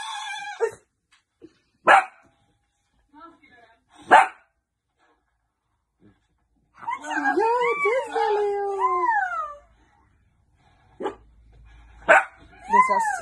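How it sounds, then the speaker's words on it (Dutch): A dog in a home barks at a television, giving several sharp, loud barks spaced a couple of seconds apart, then a drawn-out howling yowl, then more barks near the end. "zelfs als de hond me ziet op het beeld, blaft hij."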